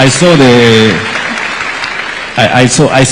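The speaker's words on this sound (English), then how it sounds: "A round of applause for her." Applause for a woman at a Kenyan government projects event, with clapping spread across the clip and voices talking over it at the start and end.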